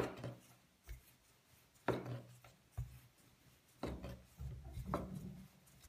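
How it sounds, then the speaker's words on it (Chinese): Dough being rolled out into a round flatbread, with a rolling pin thumping and rubbing against the board in a few uneven, soft passes, heard close and quiet. "拿过第一个面团，直接擀成圆饼状"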